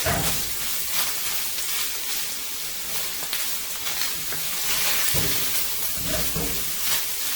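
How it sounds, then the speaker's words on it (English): Peppers, celery and garlic sizzle and hiss in a hot pan as they are stirred for sloppy joes. The frying is loud and continuous, with occasional scraping stir strokes and no talking. "we're going to add our peppers, celery, and garlic. We're going to give this a nice stir."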